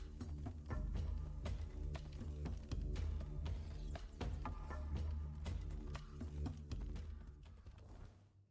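A horse in the video game Tainted Grail: The Fall of Avalon clip-clops along in a steady rhythm of hoof taps, moderately loud and continuous, with mechanical clatter mixed in.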